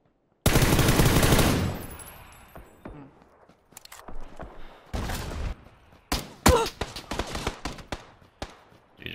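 Gunfire in the video game PUBG opens with a loud, sustained burst, then drops to scattered single shots and short crackles at varying distances, with quieter gaps and faint shuffling between them.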